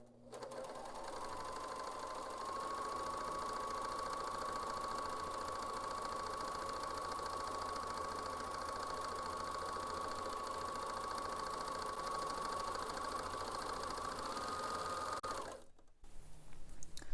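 A serger sews a rolled hem over a fishing line core with its cutting knife disengaged, giving a steady, close, continuous motor whir for about thirteen seconds before it stops abruptly.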